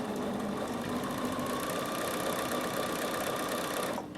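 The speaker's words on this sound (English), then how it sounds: "So now I'm going to start sewing, and I want it to lock off" A Bernina 7 series sewing machine stitches appliqué on a striped block, a steady fast mechanical hum and rapid needle clatter running unbroken for several seconds before stopping at the end.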